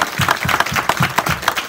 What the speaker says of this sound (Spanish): Denle un aplauso a Dios por todos los médicos.